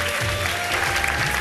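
A studio audience at a live Ramadan iftar television show claps briskly for a child, a short, dense burst of applause.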